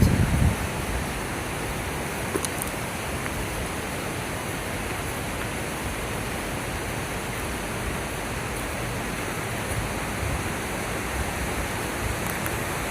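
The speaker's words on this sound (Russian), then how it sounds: "И река течет." Steady, broadband rushing of a flowing mountain river in a North Ossetian gorge continues evenly throughout, with no breaks or voices.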